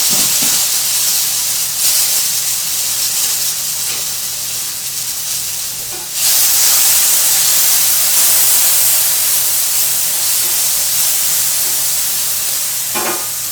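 Black beans sizzle in a hot skillet with a steady broadband hiss that continues throughout, growing a little louder partway through, with faint clinks of the pan and no talking.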